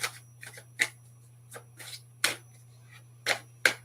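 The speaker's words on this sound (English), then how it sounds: "My cards, let me give them a quick shuffle" Several quick bursts of riffling card noise, spaced irregularly, close and fairly crisp against a steady low hum.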